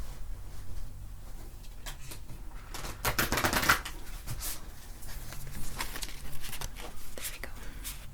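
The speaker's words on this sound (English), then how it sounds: "Just gonna do one shuffle, like a regular card deck." A regular deck of cards being shuffled once out of view, with soft papery riffling and a brief flurry of quick snaps at close range, quiet and intimate in an ASMR setting.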